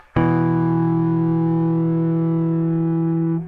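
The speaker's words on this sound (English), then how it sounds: "I don't like that fizziness coming out of a distortion." A single loud bass guitar note held with fizzy, buzzing distortion from an EBS Billy Sheehan Drive pedal, sustained steadily for about three seconds before cutting off.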